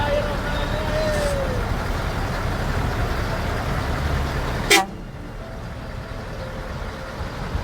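A convoy of six aid trucks sets off in Indonesia, horns tooting over a steady roar of engines and crowd noise, with voices in the background and a sharp knock near the end.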